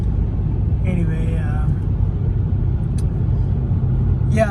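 A car driving to work toward Colorado on a rainy morning near Las Vegas, Nevada: a steady low road rumble and engine drone fills the cabin throughout, with faint brief sounds on top and no break in the noise.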